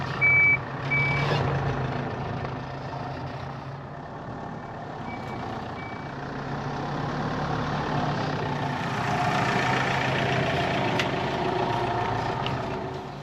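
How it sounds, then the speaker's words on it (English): A Fuso camper truck backs through a tight turn, its reversing alarm beeping in short pulses over the steady low rumble of the idling engine, which swells a little partway through. No one speaks. "We'll go ahead and do a little Austin Powers turn"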